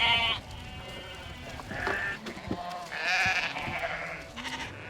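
Sheep bleat repeatedly on a working farm as the flock is herded together, several overlapping calls rising over steady outdoor background noise with no talking.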